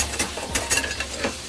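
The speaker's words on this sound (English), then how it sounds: "first thing we do is cook the fat." Pork fat cooking in a pan for adobo gives a brief, close crackling sizzle broken by a few stirring scrapes.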